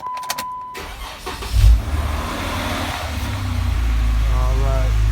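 A Jeep Wrangler JK fitted with a Redrock cold air intake and throttle body spacer is started: a short cranking burst, then the engine catches and settles into a steady, fairly close idle.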